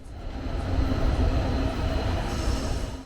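A Tren Urbano heavy rail metro train, third-rail powered, rumbles steadily along the track with a dense low roar and faint wheel noise, loud and continuous throughout with no talking.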